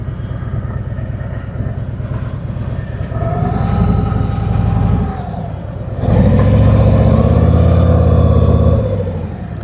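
Engine of a Harley-Davidson Tri Glide trike as it drives through snow, a steady low drone that grows louder and rougher midway and stays close and loud.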